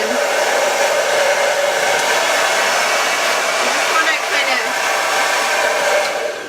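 A hair dryer blows steadily on twisted hair, a loud, constant, close whoosh of rushing air that runs without a break from start to finish.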